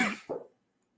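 Two sharp coughs close together, the second a bit weaker, followed by silence.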